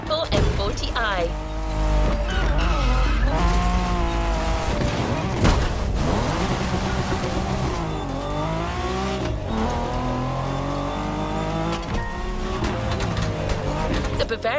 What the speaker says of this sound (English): We have prepared a classic for you from a very famous German brand, the BMW Z4 M40i.